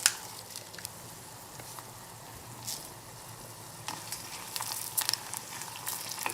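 Red chili peppers, broken up with their seeds, fry in a pan for a spicy chicken and vegetable soup, giving a steady close sizzle with light crackles and a few stirring clicks, no voices.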